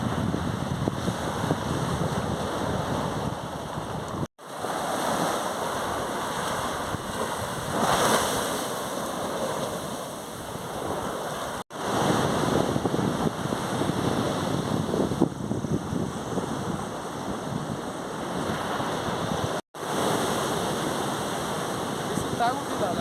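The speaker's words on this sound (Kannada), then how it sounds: "ಗಾಳಿ ಇದೆ ಅಂತ ಇರ್ಬೋದು." Wind buffets the microphone at Honey Beach in Uttara Kannada, Karnataka, in a constant rough roar with surf-like wash beneath it, and people talk over it.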